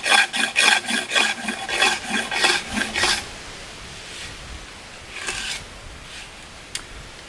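A knife edge or rasp scraping along a wooden axe handle to thin it, a quick series of about ten rhythmic rasping strokes close up, then a pause with a few fainter scrapes and a small tap.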